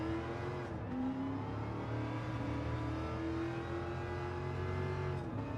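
Steady in-game car engine from Gran Turismo 7 holding a revving drone with shifting pitch, continuous and fairly loud, no talking over it.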